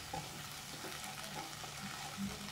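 Ginger garlic paste fries in hot oil for a paneer korma, giving a steady, close sizzle with faint stirring scrapes throughout and no voices.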